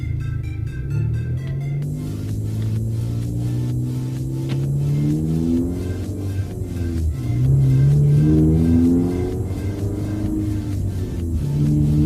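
A loud car, heard from inside after sound deadening was fitted, rumbles continuously while driving, its engine revving up and dropping back several times in a steady, close drone.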